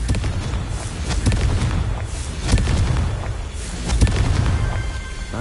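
Blasting curse explosions from Hogwarts Legacy, a series of loud, close booming bursts with crackling debris over a dense low rumble, with no voices.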